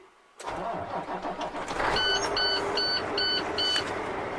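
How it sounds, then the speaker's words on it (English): A tractor-trailer truck engine cranking and catching, rising into a close, loud idle, followed by a series of five evenly spaced electronic dashboard beeps over the running engine. "Nobody in front of the tractor. And start the engine."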